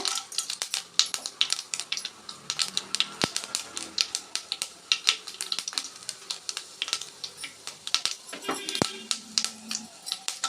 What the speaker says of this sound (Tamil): கடுகு பொரியுதுங்க